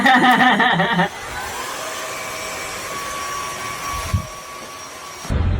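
A loud blast of airflow cuts off, leaving a steady motor whine and hum of a vacuum cleaner running nearby.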